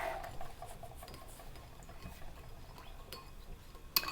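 Salt is stirred into water in a bowl for homemade bread, making faint, light clinks and scrapes of a utensil against the container, with one sharper clink near the end.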